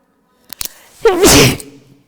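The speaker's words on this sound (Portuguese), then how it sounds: "Acho que eu vou espirrar." A single close, sharp sneeze bursts out after a couple of faint breathy catches, then fades quickly into quiet.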